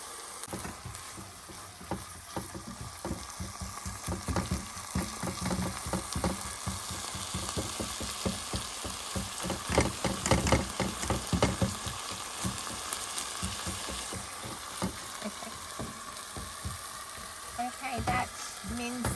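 Minced meat frying and sizzling in a pot on a campervan stove, a steady bright crackle with repeated scraping and stirring strokes throughout, some faint talk in the background.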